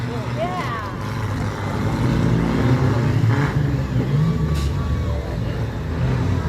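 Several demolition derby cars still running in an arena, a continuous rumbling engine drone with occasional revs, a crowd and an announcer's voice over it.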